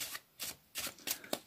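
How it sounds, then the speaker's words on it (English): Playing cards being milk shuffled by hand, a quiet series of short papery riffles in separate bursts, close and crisp with small pauses between each pass. "You can have them there and do your milk shuffle"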